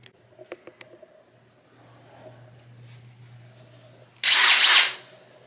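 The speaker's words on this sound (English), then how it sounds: "let's go get the noise abatement and hot stuff on and get the drills going." A power drill bores into ceramic shower tile during a grab bar installation: a few light taps and a low hum build up, then a loud, harsh, high-pitched grinding burst lasts under a second before cutting off.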